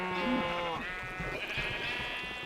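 Sheep in Minecraft bleat in a single wavering, nasal cry, fairly clear and close, followed by softer fading bleat texture, with no voices over it.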